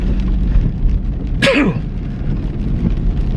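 A single sharp sneeze bursts out amid steady background noise, brief and fairly close.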